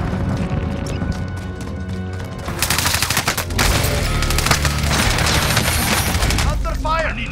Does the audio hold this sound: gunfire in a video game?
yes